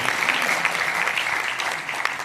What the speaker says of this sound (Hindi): सर के लिए भी दिल से एक जोरदार ताली होनी चाहिए।